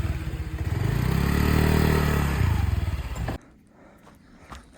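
A motorbike climbing a steep hill road in Dalat, its engine throbbing loud and close as it labors and revs upward, then cutting off abruptly into quiet with a few faint knocks.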